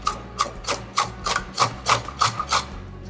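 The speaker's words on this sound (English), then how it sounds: "Now we're going to grate 2 carrots." Two carrots are grated by hand for a bulgogi burger slaw, about ten steady rhythmic rasping strokes, close and fairly loud with no talk.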